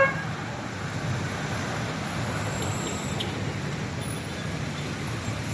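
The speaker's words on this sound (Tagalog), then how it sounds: "Ang papunta dito hindi man masyado traffic." Road traffic beside buildings at sunset makes a steady, moderately loud roadway hum, continuous and fairly distant, with no clear voices.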